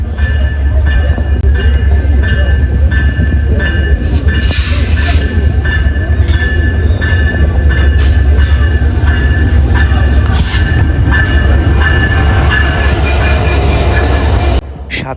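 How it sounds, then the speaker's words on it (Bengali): An intercity passenger train hauled by EMD locomotive 6636 approaching on the Dhaka–Benapole route, a loud, continuous rumble of engine and rolling wheels with rising clatter, then cutting off abruptly near the end. "ছেষট্টি ছত্রিশ ইএমডি e লোকোমোটিভ নিয়ে ট্রেনটি এগিয়ে আসছে"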